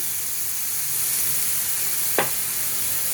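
Half-fried potatoes sizzling in oil in a pan with turmeric and salt, a steady close hiss running throughout with one brief clink of a utensil partway through.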